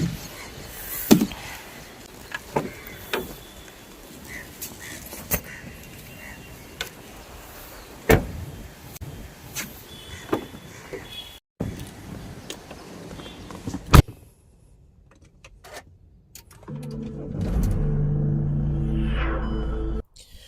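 Car doors slamming and power windows whirring as a car is readied to set off at night, with sharp thumps and clunks spaced through, then an engine-like rumble starting near the end.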